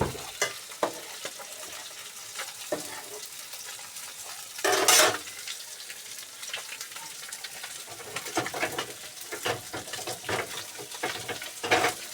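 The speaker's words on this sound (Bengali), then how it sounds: "দেখো মাছ ভাজা।" Steady sizzling of fish frying in a pan, with occasional sharp crackles and one louder hissing burst partway through.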